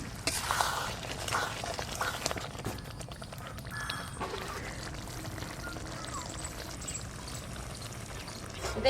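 Fried shrimp tipped into a thick simmering malai curry gravy in a village kitchen, a brief close plop and pour followed by soft bubbling and faint sizzle.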